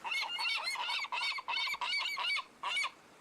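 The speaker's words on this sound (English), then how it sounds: "seagulls are horrible." Seagulls cry in a treasure adventure video game, a loud run of harsh, rapid squawks repeating in quick bursts with short gaps between them, with no talk.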